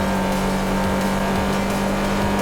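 A 2021 Hyundai Santa Fe Hybrid accelerates in GTA5, a loud, steady engine drone with a strong constant hum and faint rising tones underneath, continuous throughout with no talk.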